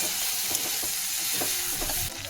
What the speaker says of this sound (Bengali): তো এটাকেও খুব ভালোভাবে একটু কষিয়ে নেব মশলার সঙ্গে